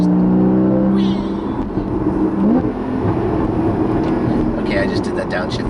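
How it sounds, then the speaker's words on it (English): Porsche Cayman GT4 or GTS engine blipping through a downshift, a loud, steady mechanical drone rising then settling beneath continuous cabin rumble, close and sustained for several seconds. "I just did that downshift to hear it."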